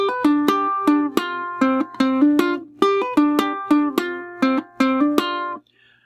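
A high-G ukulele plays a short lick from a song, arranged as it would be for a low-G tuning. Bright plucked notes are picked close up in a steady, bouncing rhythm and stand alone, ringing out before a brief silence.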